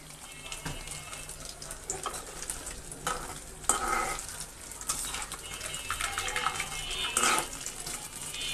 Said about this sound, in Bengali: এখন চিংড়ি মাছ ফ্রাইটা করে নেব।